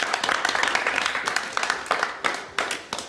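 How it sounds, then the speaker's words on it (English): A small pottery class gives a round of applause, a few people clapping unevenly with a couple of stronger claps near the end, close by and with no talking over it. "A round of applause, please."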